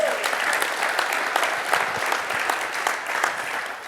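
A church congregation claps in sustained applause during a bilingual sermon, a dense even patter of many hands throughout, moderately loud and without a break.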